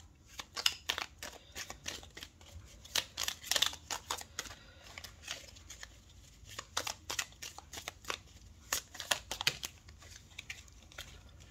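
Small oracle cards are shuffled by hand, producing a quiet stream of crisp, rapid riffling flicks and snaps in irregular bursts, with no talking.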